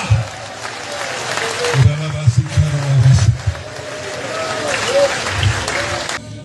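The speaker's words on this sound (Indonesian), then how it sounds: "Berikan tepuk tangan di atas kepala" Church congregation clapping their hands above their heads during a revival service, a steady patter of clapping running throughout, with a voice singing or speaking over it in bursts.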